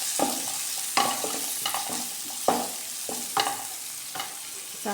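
Half an onion fries in a pan for a black-eyed pea sukka, a steady close sizzle broken by repeated scraping stirs at roughly regular intervals, with no voices over it.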